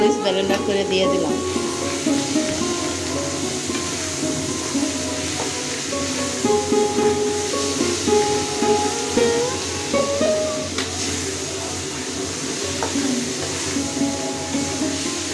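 Blended red chili paste sizzles as it hits loitta shutki (dried Bombay duck fish) cooking in a pan, a steady hiss with faint stirring clinks throughout.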